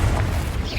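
A Confringo blasting spell explodes in Hogwarts Legacy, a short dense boom with a deep rumble filling the whole brief moment amid combat noise.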